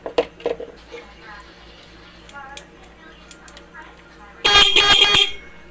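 A vehicle's stock horn, just repaired after failing to work, gives one loud, close honk lasting under a second near the end, following quieter background clatter.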